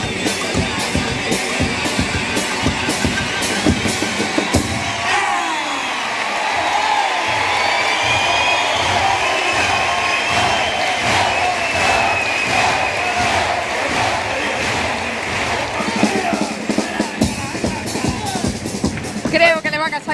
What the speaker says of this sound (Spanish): Gran ovación por parte del Gran Teatro Falla a este personaje, el Grinch de Kai